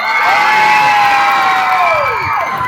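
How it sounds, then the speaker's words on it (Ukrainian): Audience at a live concert by a Ukrainian singer cheers and whoops loudly over a sustained crowd roar, with a rising and falling shouted tone cutting through across nearly three seconds of constant noise. "Ваші оплески"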